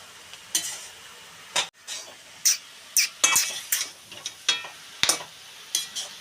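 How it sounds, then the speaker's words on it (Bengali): Grated carrots with salt being stirred in a pan for carrot halwa: about a dozen separate scraping strokes of a spoon against metal in an irregular rhythm, close and clear, without speech. "নুনটা দিয়ে আমি আবার নেড়ে নেব।"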